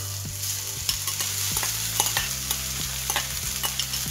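Quinoa and other ingredients stir-fry in an oiled skillet, a loud close sizzle broken by repeated rhythmic spatula scrapes and clacks against the pan, with no talking.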